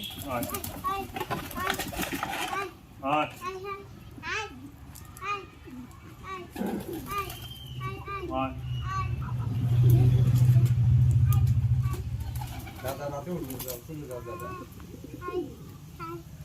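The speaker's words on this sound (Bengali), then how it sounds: "এটা হচ্ছে আমাদের বাড়ির পায়রা। বাবা খেতে দিচ্ছে, সবাই চলে এসেছে।" Domestic pigeons being fed at a home give low, repeated coos among voices of adults and children, while a vehicle rumbles swells in the background partway through.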